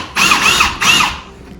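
A DeWalt brushless cordless power drill whirs in two short, loud bursts close by, each with a rising and falling whine as the trigger is squeezed and released.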